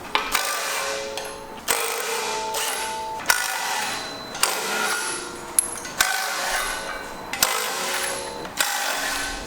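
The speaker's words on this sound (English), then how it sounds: "we just unbolt the 4 bolts that mount the top and bottom bar" Bolts holding the top and bottom bars of a forcible entry training door prop are unbolted with a ratcheting tool, a loud, close, rapid clicking in repeated bursts of about a second each with sharp starts between them.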